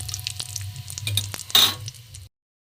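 Whole spices with a bay leaf tempering in hot oil for a vegetarian cauliflower curry, a steady close sizzle with scattered crackles and a brief louder spatter near the end before it cuts off.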